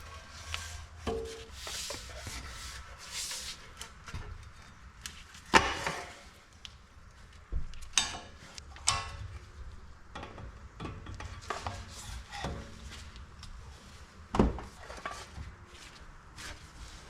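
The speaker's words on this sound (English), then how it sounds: "I'm using the BFP tool to loosen those pretty easily here." A BFP tool loosens the four hub bolts during a front wheel bearing replacement on a Lexus GX470, giving a string of sharp metallic clacks and scrapes at irregular intervals, close and fairly loud with no talk.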